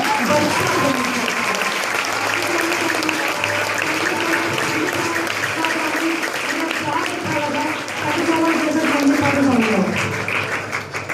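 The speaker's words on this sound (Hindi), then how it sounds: "जोरदार अप्लॉज होना चाहिए" An audience at an EBIZ business group testimony event bursts into loud, continuous clapping that stays dense and even throughout, with voices mixed into the roar.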